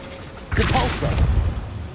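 Depulso spell cast in Hogwarts Legacy, a sudden forceful whooshing blast with a thumping impact, then a rumbling tail over quiet game ambience.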